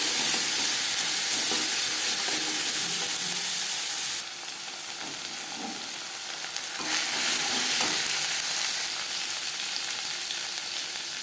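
Ginger paste, green chili paste, crushed garlic and bay leaf fry in hot oil for a fish curry, giving a loud steady sizzle that briefly drops, then swells again, with faint stirring scrapes.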